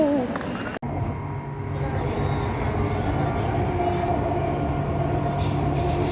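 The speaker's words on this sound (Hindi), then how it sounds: "यह है CMBT मेट्रो" A metro train at CMBT station rumbles loudly and steadily with clattering rail noise after a brief cut, and a faint hum sits underneath.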